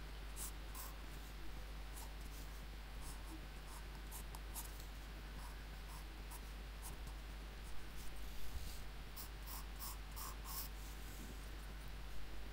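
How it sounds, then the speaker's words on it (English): A Crayola black pencil crayon shades a drawing of Venom on paper, giving a steady, close, soft scratchy rustle that runs continuously with faint strokes and no talking. "I'll start to shade with this, you know, Crayola black pencil crayon"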